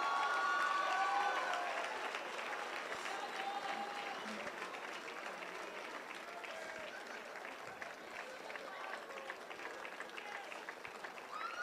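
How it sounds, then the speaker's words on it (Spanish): A crowd at a sports-event torch ceremony, the New Fire ceremony of a national technological institute games, applauds at a distance, a sustained wash of clapping with faint voices and whistles mixed in. "Un fuerte aplauso para ella."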